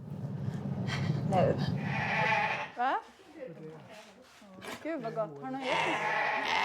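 Sheep and lambs bleat at a lamb inspection where appraisers examine curls, skin and wool, with several wavering, close calls rising over a murmur of voices and barn noise.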